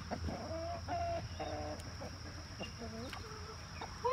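Chickens cluck and call repeatedly in a new coop area, several short bursts of clucking close by over a steady background hum, with faint voices in the background.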